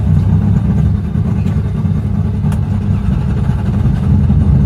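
A Mazda car engine runs steadily, a loud, low rumbling drone that holds an even level throughout with no talk over it.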